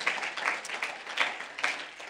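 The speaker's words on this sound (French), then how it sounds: "on peut les applaudir" Audience applause for the office team at the opening keynote of the Alliance Digitale conference, a steady, moderately faint patter of many hands clapping with small swells in intensity, and no voices over it.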